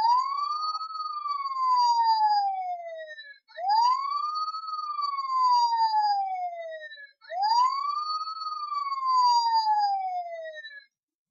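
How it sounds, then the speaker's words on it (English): Toy siren from a Robots in Disguise (RiD) Optimus Prime figure, three rising-then-falling electronic wails in steady succession with short gaps between them, loud and clear with no talking over it. "It's a good siren,"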